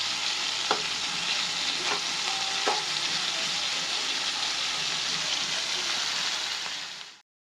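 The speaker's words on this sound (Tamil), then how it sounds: "வெங்காயம் தக்காளி எல்லாமே வதங்கும் போது கல் உப்பு கொஞ்சம் போட்டுருங்க" Onions and tomatoes sauté in a pan for a spicy chutney, giving a continuous close sizzle with a few sharp scrapes and clinks from stirring. It fades out at the end, and nobody talks.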